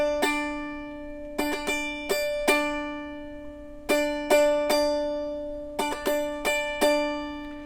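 Opening of a song played on a Loog guitar: bright, ringing strummed chords in a lilting three-beat pattern, clean and close, each strum decaying before the next, with no talking.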